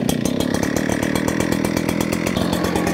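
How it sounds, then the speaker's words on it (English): ECHO PB-9010 backpack leaf blower roaring at full throttle, a loud, close, steady engine drone with a fast pulsing buzz and constant rushing air. "I want to show you how powerful this blower is."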